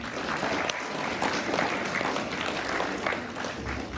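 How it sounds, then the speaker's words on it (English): A conference audience at a red carpet gala gives a big round of applause, a loud, dense, continuous patter of many hands that holds steady throughout. "Let's give him another big round of applause."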